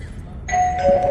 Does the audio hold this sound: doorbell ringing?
yes